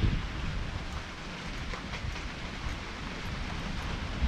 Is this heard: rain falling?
yes